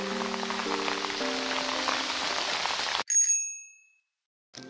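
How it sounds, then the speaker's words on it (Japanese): Heavy rain pours down steadily while bass fishing at a reservoir, a dense constant hiss with a few sustained tonal notes mixed in. It cuts off abruptly midway, followed by a short bell-like ring and silence. "すごい雨や。"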